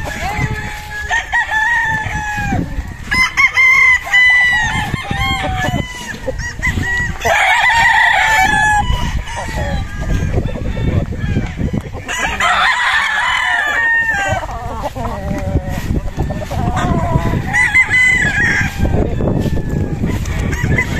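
Gamecock broad stags crowing at a game farm, several loud overlapping cock-a-doodle-doo calls coming in bursts, some close and some farther off, over constant barnyard noise and clucking.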